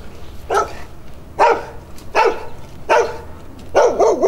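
A dog barks five times at visitors beside a barrage on the Erdre river, loud and close, in evenly spaced sharp bursts with brief gaps between.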